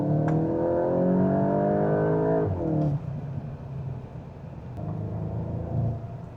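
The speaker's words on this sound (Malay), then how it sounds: "exhaust dia pun dah tune, there's a bit of a growl, tapi tak loud sangat." A Volkswagen Golf GTI Mk8.5 engine hums with a low growl from its tuned exhaust, revving slightly then easing off, steady and moderately quiet from inside the vehicle.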